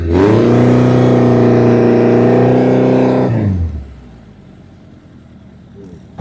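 A car engine revs loudly and steadily for about three seconds, then drops away to a low idle rumble.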